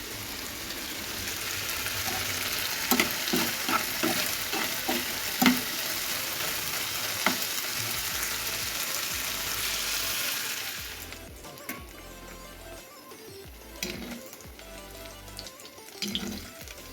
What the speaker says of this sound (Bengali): একটা ডিম দিয়ে 4টা আলুর চপ বানিয়েছি, 2টা রাখছি আর 2টা ভেজে নিচ্ছি।